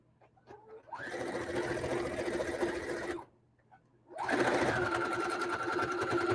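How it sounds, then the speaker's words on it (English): A sewing machine whirs in two bursts of rapid stitching as two fabric strips are sewn together, separated by a short pause, close and steady with no speech. "just keep sewing these two strips together"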